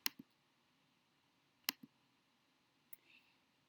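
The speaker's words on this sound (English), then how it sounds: "I click this button." A computer mouse button gives sharp, close clicks in quick pairs, a double click near the start, another pair mid-way, then one softer single click, in an otherwise quiet room.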